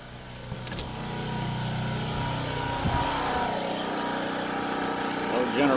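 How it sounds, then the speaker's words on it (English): An old generator runs steadily during a 2021 ice storm, a mid-level mechanical engine drone holding constant throughout while people talk nearby. "Old generator is just a running away."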